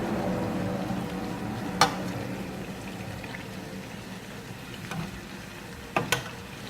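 Mandazi, cardamom and coconut milk doughnuts, frying in hot oil: a soft continuous bubbling sizzle with a few sharp crackles and spatters now and then, close and quiet, no talk.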